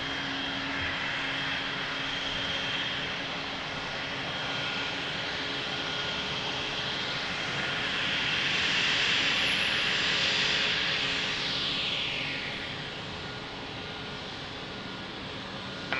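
An airplane at Lisbon Airport roars steadily as a broad, continuous engine drone, swelling louder mid-way through the takeoff run before easing back, with no voices over it.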